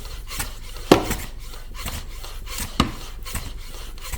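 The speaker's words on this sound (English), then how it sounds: "This thing is pneumatic, but I thought I'd try out the hand pump." A hand pump draws oil from a 2022 Renegade 850 during an oil change, giving repeated rough rasping strokes in an uneven rhythm. Two sharper clacks stand out, and the sound is close and fairly quiet.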